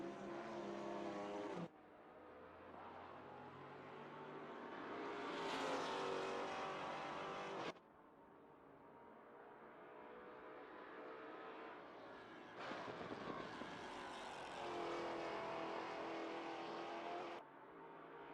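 GT4 race cars on the Brands Hatch circuit in Assetto Corsa Competizione, engines revving and climbing through gears, then cutting off abruptly as the cars pass, with no talking.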